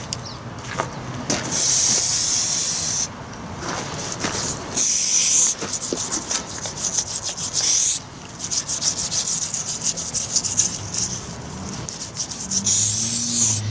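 Brake cleaner aerosol sprayed onto greasy 110TLB backhoe parts: several loud hissing bursts, each lasting a second or so, with scrubbing and rubbing sounds in between. No one speaks.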